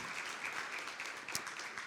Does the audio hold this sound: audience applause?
yes